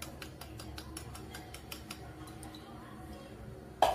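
Milk and vanilla stirred in a bowl with a utensil, producing a quick series of light clinks and ticks against the side, quiet and close, ending with a louder knock.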